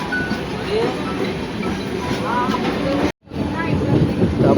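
The Bandra Express rumbles past at a level crossing, a steady, loud, continuous roar of wagons with a brief dropout near the end.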